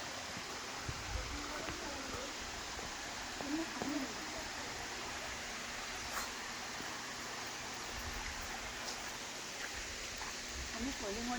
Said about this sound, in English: This whole thing's a waterfall.